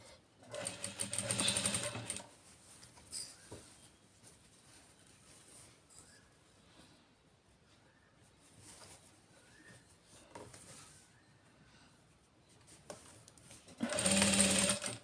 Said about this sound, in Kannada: ಚೂರು ಚೂರಕ್ಕೆ ಸ್ಟಿಚ್ಚು ನಿಲ್ಲಿಸ್ತಾ ಇರಬೇಕು